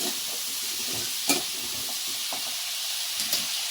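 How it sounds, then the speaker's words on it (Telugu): Moringa drumsticks fry in a pan with a steady broadband sizzle, broken by a few short stirring clatters near the start, middle and end. "మునక్కాయలు అయితే కుక్ వేయాలండి కొద్దిసేపు అయితే ఫ్రై చేస్తాను ఫైవ్ మినిట్స్ అంతే"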